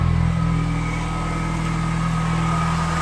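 A Chrysler PT Cruiser engine runs steadily at a low, even rumble with a constant droning hum, close by and fairly loud throughout, while its electric radiator cooling fan is not running.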